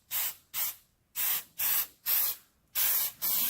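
Bedliner coating is sprayed onto a 2014 Ram truck grille in a light first coat. Seven short, even hissing bursts come in a steady rhythm, loud and close, with brief silences between.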